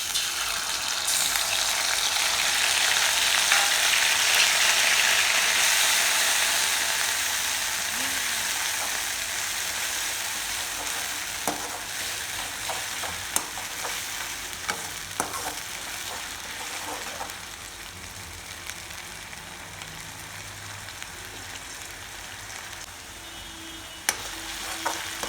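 Steady sizzling of garlic-ginger paste frying in a hot pan, loud at first and settling lower, with occasional clicks of stirring.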